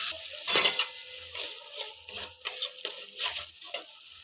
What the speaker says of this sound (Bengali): এগুলো দিয়ে আমি ভালো করে কষিয়ে নেব।